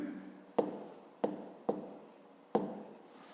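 Pen strokes scratch across paper as a fifth-grade arithmetic calculation is written down, four distinct sharp onsets each trailing into a soft scrawl, close and clear with no talking.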